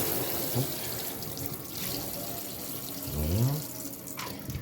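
Tap water running into a sink while a toy Citroën CX model car is scrubbed with a toothbrush, a steady close rush of water with small splashes throughout.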